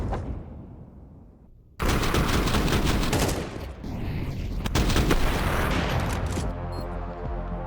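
Heavy Counter-Strike gunfire during a professional match as a bomb is planted: after a quiet start, sustained loud rifle bursts and overlapping shots crash in and continue densely to the end.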